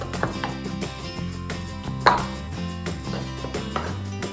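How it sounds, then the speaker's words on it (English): Plantains are smashed and mixed for shrimp mofongo, with repeated dull thuds and pounding knocks in an irregular rhythm, one hit louder than the rest, over background music. "I'm gonna start by taking maybe 3 of the plantains. And what you wanna do, just wanna smash it and mix that all up together."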